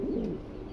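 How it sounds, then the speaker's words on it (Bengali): A male white pigeon of a fancy breed coos once, a short low throaty call that is close and clear, with no talking over it. "এই যে মেলটা ডাকাডাকি করতেছে"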